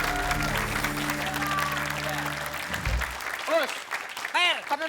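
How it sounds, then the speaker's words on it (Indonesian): A studio audience at an Indonesian comedy show applauds steadily under a sustained musical tone, which gives way to voices and bursts of laughter near the end. "sekarang mana tepuk tangan dulu yuk"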